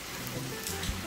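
Rain falls steadily on an outdoor home aviary, a dense, even hiss of drops pattering on surfaces with a few soft low thumps mixed in.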